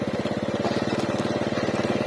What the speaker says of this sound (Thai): กำลังตีสตอกเสาเข็มลง